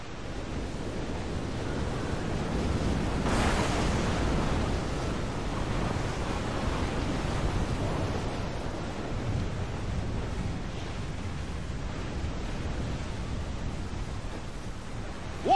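A stormy open sea in Assassin's Creed IV: Black Flag, with heavy waves surging and wind roaring in a dense, continuous wash that swells briefly near the start and stays loud throughout, with no voices.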